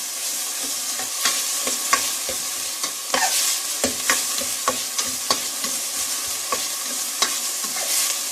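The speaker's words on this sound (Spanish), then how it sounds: "Hay que estar también aquí al pendiente para que no se nos vaya a quemar la cebolla. Solo queremos que quede un poco sofrita." Chopped onion fries gently in a pan, a steady soft sizzle broken by repeated scraping taps of a spoon stirring, close and moderately quiet with no voices.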